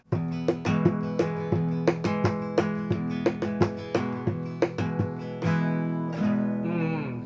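Gypsy rumba rhythm strummed on an acoustic guitar, a steady pattern of sharp percussive strums and lighter brushed accents repeating evenly, close and clear with no talking.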